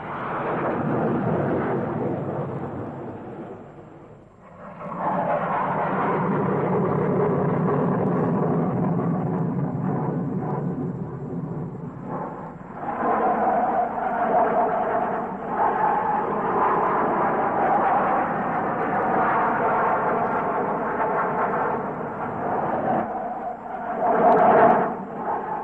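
English Electric Lightning jet fighters flying in line-astern formation, a loud, sustained thunderous roar that surges in waves, dips briefly between passes and swells again.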